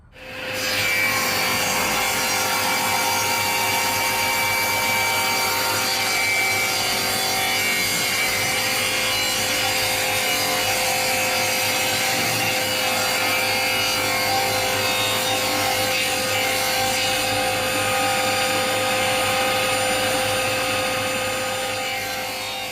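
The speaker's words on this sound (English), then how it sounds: "So I'm just setting this table saw up to cut some strips out of this hardwood." A table saw runs steadily, ripping strips from a hardwood board, a loud continuous whine with a grinding cutting texture that holds throughout and fades slightly at the end.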